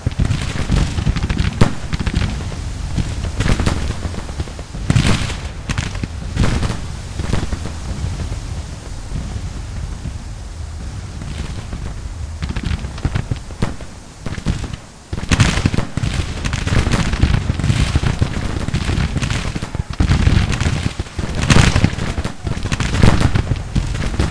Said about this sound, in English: Keep up the fire!